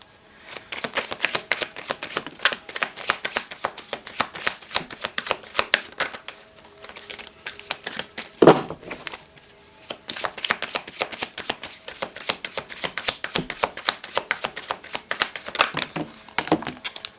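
Tarot cards being shuffled, with some falling out, in a dense run of quick riffling and slapping card clicks that continues almost throughout, briefly thinning in the middle around one louder thump.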